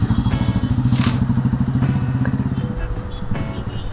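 A motorcycle ridden through city traffic in Bangalore, along BTM Layout toward Marathahalli, putters with a loud, rapid, rhythmic engine thrum close by, steady throughout with faint surrounding traffic noise.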